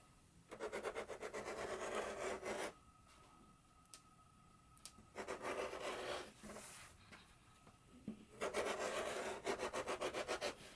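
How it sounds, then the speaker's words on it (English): Scissors trim the fabric seam of freshly sewn jumpsuit ties, giving three bursts of quick, close, faint snipping and rasping with quiet pauses between them. "we can go ahead and trim down our seam"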